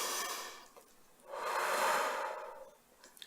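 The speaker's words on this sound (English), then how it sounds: "I take a great big breath." A single long, deep inhaled breath, close and soft, swelling in the middle and fading out, taken slowly during a calm creative mindfulness exercise, with a quieter breath sound at the start.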